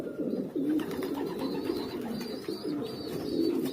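Pigeons coo softly and repeatedly in a loft, a steady murmur of low throaty calls overlapping one another close by, with no talk.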